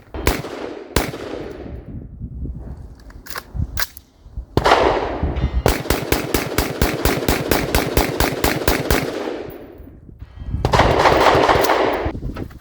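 A PSA .223 Wylde AR-style rifle fires PMC X-Tech 55 grain full metal jacket rounds: scattered single shots, then a long rapid string of loud, sharp reports, a pause, and a final burst.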